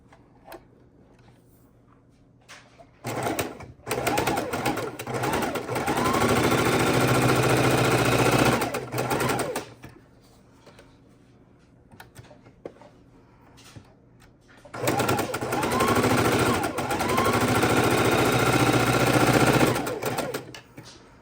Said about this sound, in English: So now I'm going to go ahead and sew my stack of half square triangles